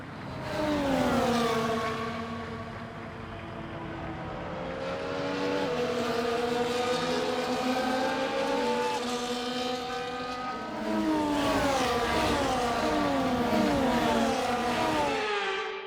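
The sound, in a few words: race cars on formation lap, video game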